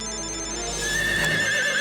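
A mobile phone ringtone plays, a steady electronic melody of bright tones ringing continuously.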